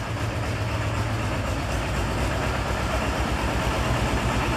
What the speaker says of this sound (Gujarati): જો આ ટ્રેક્ટર એ પૂગી ગયું